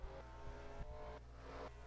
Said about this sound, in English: There's the 25 car pulling off.